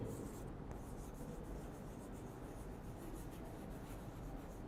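Faint, steady scratching and rubbing of writing on a board runs through a Hindi-language lecture on averages. It is a continuous low texture with no clear strokes standing out, and no one talks over it.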